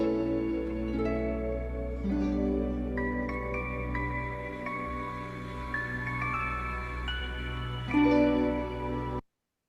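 Main theme music from Star Wars: Skeleton Crew, a sustained orchestral piece with rising melodic lines over a steady low drone, playing clearly on its own without talk and cutting off abruptly at the end.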